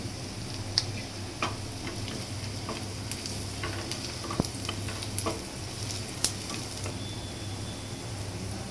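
Lightly golden ingredients fry in a pan with a little turmeric while cooking chicken fry: a continuous close sizzle with occasional sharp ticks of a spoon against the pan, and no voices.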